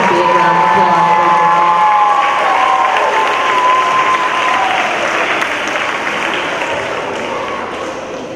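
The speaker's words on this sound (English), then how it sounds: "So we give them a big round of applause." A school audience at an elementary Veterans Day celebration claps loudly for visiting veterans, a dense sustained wash of applause with some cheering that slowly fades, a voice audible near the start.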